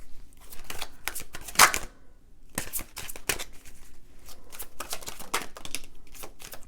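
Tarot cards handled and shuffled in a series of crisp, papery flicks and snaps, close and fairly loud, with short pauses between bursts and no talking.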